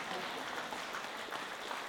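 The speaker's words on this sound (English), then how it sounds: "A round of applause, please, to our Thames Valley Police." Crowd at an Independence Day celebration applauds Thames Valley Police, a faint, dense spatter of clapping that holds evenly through a short stretch.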